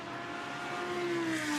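An Aston Martin GT race car at Brands Hatch during free practice runs past with a rising engine whine that climbs in pitch and loudness as it approaches, without voices.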